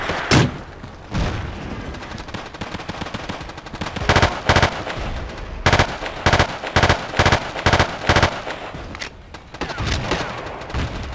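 An M16A2 rifle fires in Battlefield, loud close shots in spaced clusters of sharp cracks with echoing tails, separated by quieter stretches of handling noise where the weapon is reloaded.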